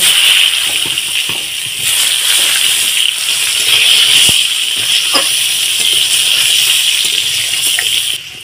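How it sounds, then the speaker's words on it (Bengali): Pumpkin pieces fry in oil with a loud, steady hiss and bubbling sizzle that runs close and continuous, with a few faint clinks and no talk. "দিয়ে কুমড়োটাকে আর একটু ভেজে নেব।"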